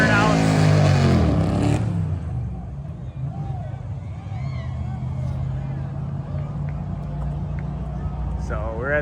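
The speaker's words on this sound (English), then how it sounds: "they finally got the party started with some burnouts going on" Car doing nighttime burnouts at a track event: a loud, sustained engine roar with a brief high rev at the start settles into a steady drone, while a crowd chatters and babbles throughout.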